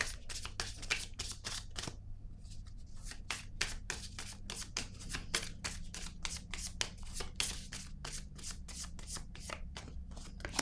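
Playing cards being shuffled by hand, a fast, steady run of crisp riffling flutters and snaps, close and fairly quiet, with a brief pause early on.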